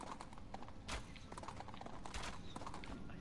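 Horse hooves clip-clop steadily in the Portal Knights video game as a mount moves, with a few soft whinnies mixed into the busy game sounds and no talk.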